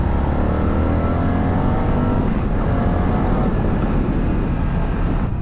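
An Indian FTR motorcycle's V-twin engine drones steadily and loudly while riding on a rough road, with a continuous low rumble and wind noise and no clear revving.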